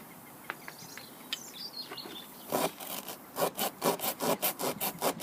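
A rasp tool reams out a puncture hole in an off-road tyre: after a few faint scrapes, a run of steady, rhythmic rasping strokes begins, with birds chirping softly in the background.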